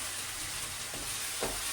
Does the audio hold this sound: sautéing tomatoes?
yes